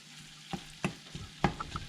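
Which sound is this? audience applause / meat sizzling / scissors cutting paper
meat sizzling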